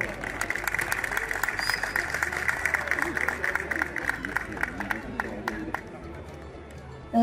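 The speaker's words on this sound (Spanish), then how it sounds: "recibamos la competencia con un maravilloso y caluroso aplauso" Steady applause and crowd noise fill an outdoor horse competition for Paso horses in Manta, Cundinamarca, holding at an even level throughout before dropping off near the end.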